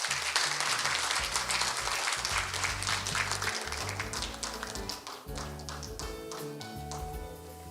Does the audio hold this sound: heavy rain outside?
no